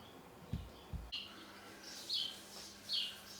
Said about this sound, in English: You hear the birds tweeting outside.